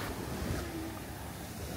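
Surf and waves on a beach at Jomtien near Pattaya, Thailand, a steady broadband wash of breaking water mixed with wind rumble on the microphone, constant and fairly loud for a brief moment with no talk.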